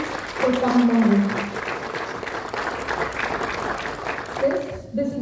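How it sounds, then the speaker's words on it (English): Audience applause at a community business event, a moderate crowd clapping steadily while a voice speaks over it at the start and end. "A huge round of applause for Mr. Lajong for Hapdeng."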